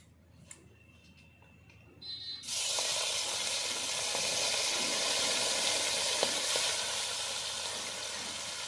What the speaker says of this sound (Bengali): মাছটা প্রথমে ভেজে তুলে নেব